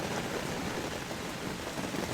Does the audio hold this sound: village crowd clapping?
no